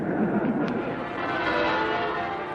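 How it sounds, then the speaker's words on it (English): Church bells ring across Britain, clanging continuously and densely under a steady wash of noise, distant yet loud throughout. "the church bells, which had been silent since the beginning of the war, were rung throughout Britain"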